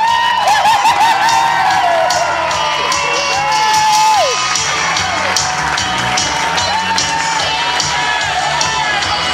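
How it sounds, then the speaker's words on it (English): Wedding guests cheer, whoop and shout for newly married bride and groom, a loud, continuous crowd roar with scattered applause and high excited voices throughout. "Let's have a nice round of applause for Mr."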